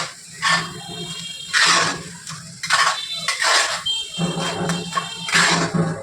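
A spatula scrapes and clatters around a pan while a lotte (Bombay duck) fish dish is stirred together with spring onion greens, repeated close, moderately loud strokes with faint sizzling between them.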